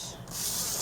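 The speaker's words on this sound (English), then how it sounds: "you're going to score it at 1 inch on all 4 sides" A scoring tool drawn along cardstock on a scoreboard, a short, close rubbing scrape that swells into steady friction, with no talking.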